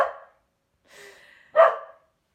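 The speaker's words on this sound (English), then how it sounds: "Obviously, that's just my dog again." A dog barks indoors in short separate bursts, three sharp woofs with gaps between, moderately loud and otherwise quiet around them.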